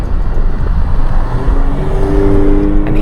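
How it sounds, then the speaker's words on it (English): Engine of a 2025 Alfa Romeo Stelvio Quadrifoglio SUV accelerating hard, a loud continuous low roar with a rising tone building steadily toward the end. "and hear that engine"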